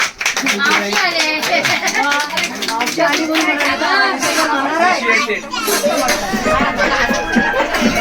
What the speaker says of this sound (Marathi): मस्त मस्त टाळ्या वाजवा टाळ्या